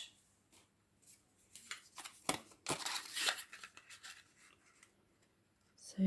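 A handheld craft punch cutting a paper hedgehog shape from card, a few quiet crunching snips and paper rustles, close and faint with pauses between.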